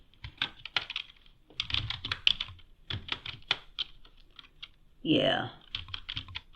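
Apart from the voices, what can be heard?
typing on a computer keyboard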